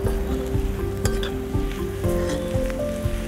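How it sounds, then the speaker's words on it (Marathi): Spice masala for a dry sandga curry sautés in a pan, a steady close sizzle with repeated stirring scrapes throughout, no voices. "तर मसाले छान असे परतले गेलेत"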